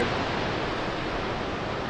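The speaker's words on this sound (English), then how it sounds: "That's got to be the most impressive waterfall I've ever been to" Steady, dense roar of a massive waterfall, a broad continuous rush of falling water with no breaks or voices, loud and enveloping.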